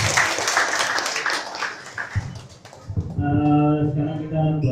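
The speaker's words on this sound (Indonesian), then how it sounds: "Sekarang boleh tepuk tangannya buat Michelle Lamarkan." Audience applause bursts out for a barber at a hair-trimmer class before a haircut demo, a dense clapping wash for about two seconds that fades, then sustained musical tones take over.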